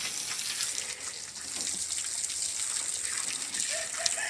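Water poured onto freshly repotted garcinia plants outdoors, a steady close splashing gush that runs on without a break.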